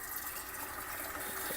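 Tap water running into a cooking pot to be boiled for noodles, a steady rushing, splashing flow, close and continuous throughout.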